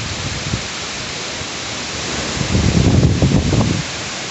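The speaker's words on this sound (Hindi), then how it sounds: "बहुत ही खतरनाक सा एक तूफान हो रहा है अभी।" A storm drives heavy rain and strong wind outside a house, a continuous loud wash of hiss with a swelling gust near the end.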